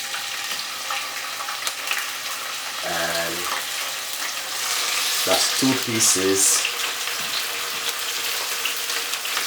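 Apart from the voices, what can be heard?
sliced bacon frying in a frying pan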